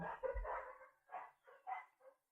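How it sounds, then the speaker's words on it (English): Several dogs barking in a home in short, bouncy bursts, a busy cluster at first and then three or four separate barks, fairly close and with no talk over them. "We got some dogs going on."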